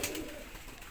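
Caged pigeons of an Iranian-Iraqi breed give a brief, soft, low coo, faint and close, with no talking.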